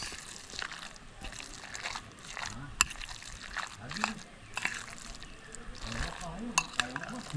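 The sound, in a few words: mixing siomai with mashed eggplant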